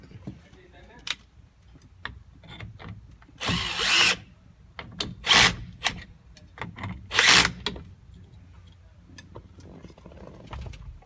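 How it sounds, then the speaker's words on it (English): Hex bolts being tightened on a Forever Sharp A02-A09 knife sharpener adapter, heard as three loud, short power-driver bursts between quieter clicks and handling noises, with faint talk in the background. "you can tighten the hex bolts."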